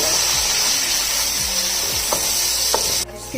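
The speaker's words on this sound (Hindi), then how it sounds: "चिकन को फ्राई करते हुए मुझे 10 मिनट हो गए थे।" Chicken pieces frying in a pan for biryani give a steady, loud sizzle and hiss, broken by a few scraping strokes of stirring and a brief dip near the end.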